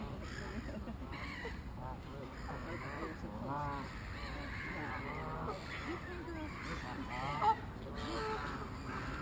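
Geese honk and squawk repeatedly in a noisy flock outdoors, with people's voices mixed in the background throughout.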